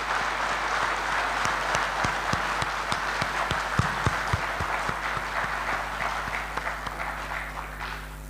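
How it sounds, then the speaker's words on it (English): An audience at a cultural evening in Mizoram applauds to welcome the Apostolic Nuncio, a sustained, dense round of clapping with sharper individual claps standing out, steady throughout and fading slightly at the end. "let us welcome him with a big round of applause"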